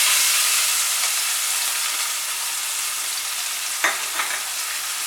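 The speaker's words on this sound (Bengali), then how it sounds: "পেঁয়াজটাকে মাঝারি আঁচে আমি ফ্রাই করে নেব।" Chopped onion frying over medium heat in hot mustard oil in a wok, a loud, steady close sizzle with a couple of sharp scraping stirs near the end.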